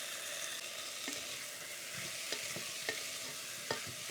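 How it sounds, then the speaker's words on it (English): Korma curry paste being stirred into vegetables cooking in a pot, with a soft, steady sizzle and a few light scraping clicks of the spoon against the pot, with no talking. "Get the paste mixed in and give it 3 or 4 minutes just for the flavour to infuse into the veg."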